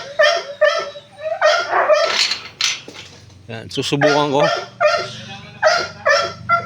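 A large dog barks in a series of sharp, loud barks close by, mixed with some yips, while someone speaks nervously in between and metal clinks faintly in the background.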